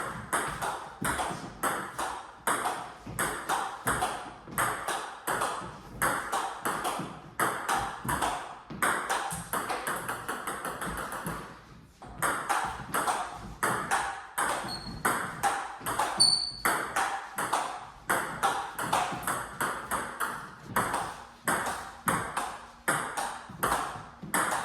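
Table tennis ball struck over and over with forehand and backhand pushes, crisp pings in a steady, fast rally rhythm with a brief pause midway, close and clear with no talking.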